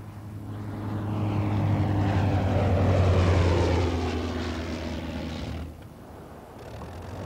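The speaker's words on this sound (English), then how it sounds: "rotary engines, based on the French design, powered a generation of fighters" A WWI Sopwith Pup fighter with a rotary engine drones overhead, its propeller note swelling as it draws near, holding loud for a few seconds, then fading away.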